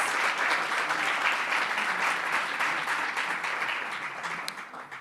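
Sustained, dense applause from a seated audience at a community dialogue event, steady and loud throughout before tapering slightly at the end, with no voices over it.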